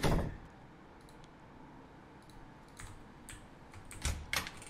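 Typing on a new computer keyboard, a run of soft, close key clicks over a quiet room, with a brief louder clatter near the end.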